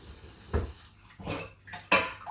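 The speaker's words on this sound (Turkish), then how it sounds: "Önce mutfağa bile yarım yamalak bir toplayayım." Dishes and cutlery clatter in three separate bursts as a kitchen is tidied, with pots, plates and silverware knocking together at close range and quiet pauses between.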